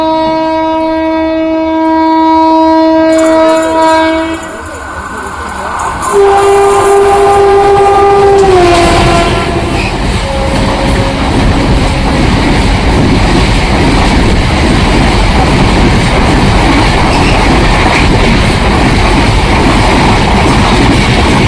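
Tutari Express 11003 passenger train passing close by, a loud horn sounding first, then a long, steady roar of wheels and wagons rolling on the rails, with no talk.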